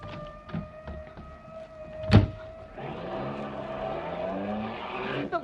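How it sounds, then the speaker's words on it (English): The fire chief's fast car, a sharp door-like thump followed by an engine starting and revving, rising and falling as it pulls away, loud and close with no talking. "We'll take the fire chief's car,"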